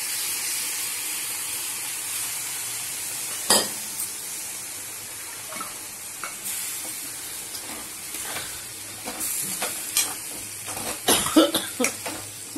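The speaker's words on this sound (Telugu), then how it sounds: "ఇప్పుడు బొబ్బర్లు వేసేస్తున్నానండి" Black-eyed peas fry in a pan with brinjal, giving a steady soft sizzle with scattered clinks and scraping stirs of a utensil against the pan, growing busier toward the end.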